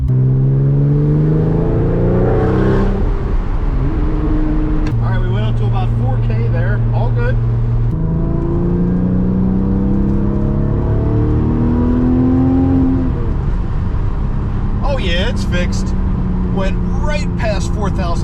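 A Porsche 996 911 Turbo engine revving up to about 4,000 RPM, loud and close with rising and falling pitch sweeps under steady road noise, while someone talks over it.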